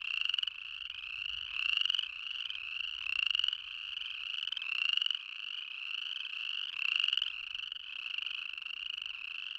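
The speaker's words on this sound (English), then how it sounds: "Sometimes the frogs will chorus from April all the way into July. And when they really get going, the sound can be intense," Chorus frogs in Yellowstone call in a dense, continuous chorus of rising, raspy trills repeating every second or so, loud and close, with no voices.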